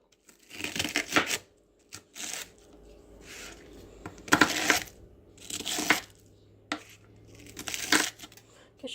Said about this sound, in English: I'm going to put some cabbage in there. Just dice this up real good.